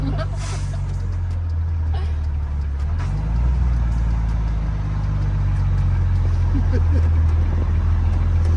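A Volvo FH truck's engine drones steadily while driving, the low rumble rising slightly midway, with people talking inside the cab.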